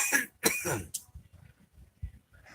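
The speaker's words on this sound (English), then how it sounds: "the guy in the background coughing" A person coughs a few harsh times and clears their throat, faint and somewhat distant, followed by soft low thumps and quiet background noise.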